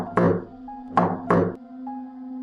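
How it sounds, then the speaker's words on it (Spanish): Three heavy knocks on a thick bunker door, two spaced and then a quicker pair, each booming and resonant with a low hum lingering after, no voices. "Con manos temblorosas, golpeé la puerta"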